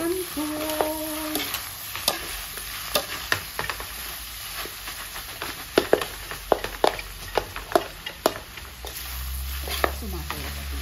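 Santol frying and being stirred in a pan for sinantolan with pork, a steady close sizzle broken by repeated sharp scrapes and taps of the spoon against the pan at an uneven rhythm.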